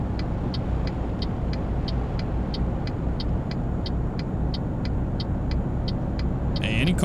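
Steady engine drone of a 2018 CRST Cascadia truck in American Truck Simulator, a constant low rumble with a regular ticking click running through it and a brief hiss near the end.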